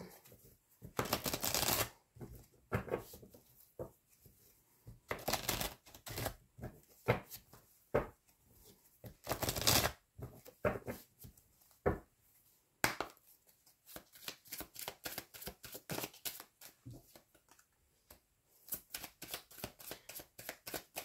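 Tarot cards being handled and shuffled, heard as bursts of riffling and flicking, with soft slaps and slides of card stock between quieter pauses, close and crisp.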